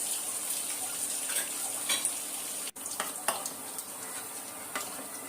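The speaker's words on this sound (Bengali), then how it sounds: "তো আমি প্রথমে ছয়া বড়িটা একটু ভেজে তুলে নেব।" Soya chunks sizzle in hot oil for vegetable pulao, a steady bright crackle with occasional stirring scrapes and a brief dropout, close and fairly quiet, no voices.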